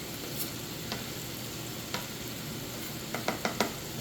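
Onions, garlic and chili pepper frying in a pan with sausage, a steady close sizzle with a few light clicks and scrapes of stirring near the end.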